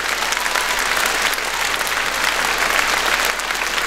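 Sustained applause from a concert audience after a song, dense and steady throughout with no pauses, loud and close, no talk over it.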